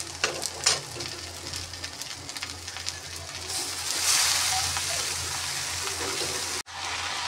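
Chowmein noodles frying in a pan with lightly browned cabbage and other vegetables: a steady, loud, close sizzle with stirring clatter that swells midway and briefly cuts out near the end.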